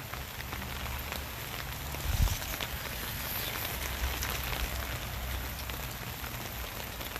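Steady, soft rain falls on a mulched garden near a chicken coop with standing water, a continuous fine patter with one brief dull thump partway through.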